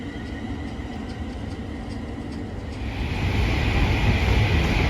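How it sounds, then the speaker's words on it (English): A London Northwestern Railway Class 350 electric train passes on the line. Its steady rail rumble and rolling hiss swell louder about halfway through as it draws near, with no talking. "there goes the 11:46 London North Western Rail service to London Euston"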